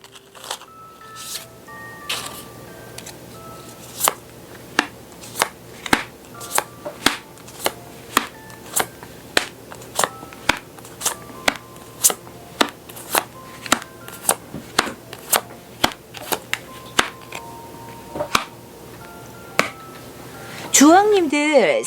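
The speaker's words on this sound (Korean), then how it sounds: "주황님들 카드 한번 오픈해 볼게요." Tarot cards shuffled and flipped open at a table, a long run of crisp, regularly spaced slaps and flicks close by, ending in a brief rising swish.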